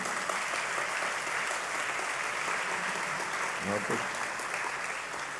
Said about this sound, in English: So just quickly a round of applause for ourselves